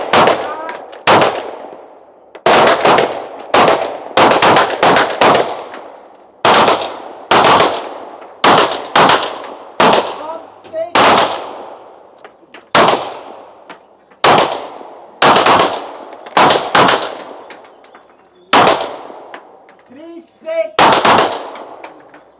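Sharp, loud 9mm shots from a SIG P210 pistol ring out at an outdoor 25 m Feldschiessen range in Switzerland, fired in irregular bursts of single shots with brief pauses, each crack trailing a short echo.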